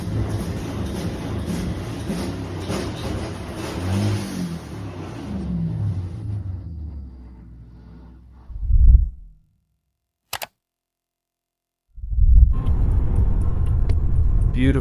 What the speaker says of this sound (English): I can just press the gas in this car